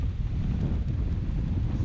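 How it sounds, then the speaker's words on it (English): Strong wind buffeting outdoors on a choppy beach during shore fishing, a constant low rumbling roar of gusts across the microphone with no voices. "it's pretty windy and pretty choppy"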